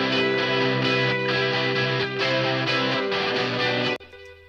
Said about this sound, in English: Now those guitars on their own sound like this.